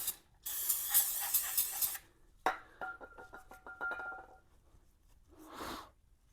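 Aerosol spray cleaning old hardened grease off the final drive splines of a Honda motorcycle, two close hissing bursts separated by clicks and small mechanical rattles, then a shorter third burst near the end.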